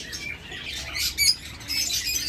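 Several cockatiels at a bird farm give bright, overlapping chirps and a few sharper squawks, with a brief louder burst partway through; no one speaks.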